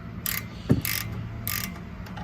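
A wrench loosens a 13 mm screw on a Mercedes CLA rear brake, giving bursts of quick ratcheting clicks in three separate runs with a small metallic knock between them, close and moderate over low background noise.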